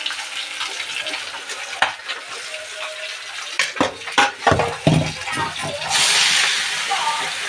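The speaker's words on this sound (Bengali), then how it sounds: "আমি ডালটা ধুয়ে নিলাম" Moong dal being rinsed with water in a bowl: a few brief splashes and sloshing washes in the middle, followed by a steadier rush of water at the end. No talk is heard.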